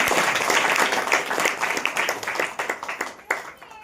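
A church congregation claps together in a dense, continuous burst of hand claps that thins out toward the end, with a voice faintly underneath.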